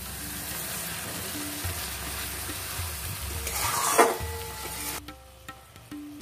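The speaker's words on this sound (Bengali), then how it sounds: "খুব ভালো করে এবার মশলাটার সাথে একদম ভালো করে কষিয়ে নিতে হবে।" Masala mixed with mustard and poppy seed paste sautéing and being stirred in a pan, a loud continuous sizzle with scraping strokes that thins out near the end.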